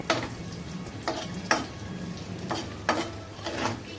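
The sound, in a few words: stirring chicken keema fried rice in a frying pan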